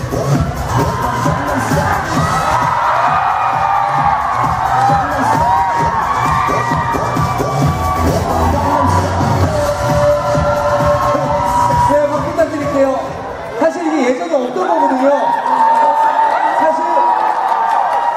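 A large concert crowd at a girl-group show cheers, whoops and shouts loudly and continuously, with high-pitched screaming dominating the later part and no clear single voice.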